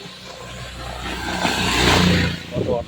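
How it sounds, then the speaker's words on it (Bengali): Auto-rickshaw driving past on a village road, its engine swelling as it nears and fading away, moderately loud, with a voice talking faintly over it. "অটো চলে গেল।"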